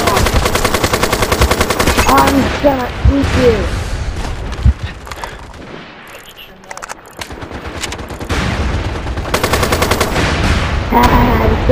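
Rapid machine gun bursts rattle loudly in the online shooter MAG, with heavy overlapping gunfire, a short lull in the middle, then dense firing again and someone talking over it.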